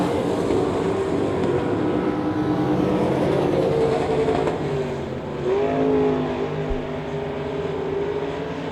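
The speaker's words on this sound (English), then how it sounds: "Thought I heard that 40 car come by here and hit a rev limiter or something." A race car at a dirt speedway roars past nearby, its engine droning loudly and steadily with a brief stuttering dip and pitch wobble as it hits the rev limiter, over a continuous crowd-and-track din.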